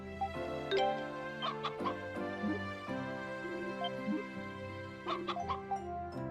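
Chickens cluck repeatedly in Ys: Memories of Celceta, short clucks and squawks scattered over a steady tonal game music bed, moderately close and loud.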